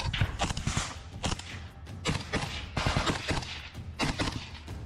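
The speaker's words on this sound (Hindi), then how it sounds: "इस दौरान यूक्रेनी सेना का एक फौजी अचानक बंकर से अपनी AK-47 असॉल्ट राइफल से ताबड़तोड़ गोलियां बरसाना शुरू कर देता है।" Bursts of AK-47 assault rifle fire ring out from a bunker in a war zone, several rapid volleys in close succession, loud and sharp with echoing tails and no talk.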